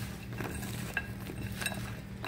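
Frozen squash slices tossed in self-rising flour, heard as soft rustling and tumbling with a few light clinks against the bowl, close by and fairly quiet, with no talking.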